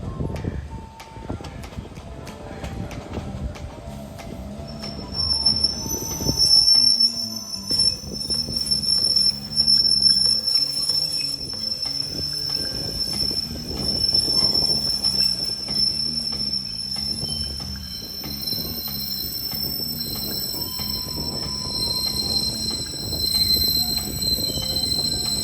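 A Philadelphia train rolls along with drawn-out, high-pitched wheel squeals that ring on continuously over a rumbling, clacking low end, loud and close.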